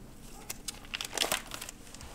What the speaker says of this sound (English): I'm grabbing like 5 pages at a time so I can get through this a little quicker